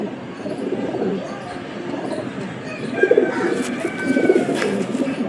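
Madras and Fulshira pigeons coo close by, soft throaty burbles layered over a low background murmur, with a few brighter chirps near the end and faint human voices in the room.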